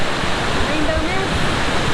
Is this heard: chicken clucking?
no